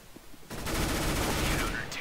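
Rapid gunfire in the video game Counter-Strike: Global Offensive, a dense burst that begins suddenly after a quiet moment and holds loud and continuous to the end.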